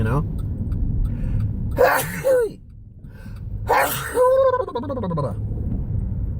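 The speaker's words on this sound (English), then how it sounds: "I hope I did not sneeze on the camera" Two sharp sneezes from a man sitting in a car, loud and close, each a sudden burst followed by a breathy trailing sound, with road and engine hum underneath.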